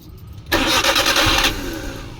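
A Suzuki DA52 with a misfiring, hard-starting F6A engine cranks briefly, then catches and settles into a loud, steady idle close by.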